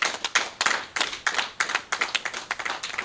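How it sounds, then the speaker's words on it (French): Audience clapping at a Benin boxing federation event, a small group's uneven claps repeating close and fairly loud with no talk over them. "Il faut l'applaudir."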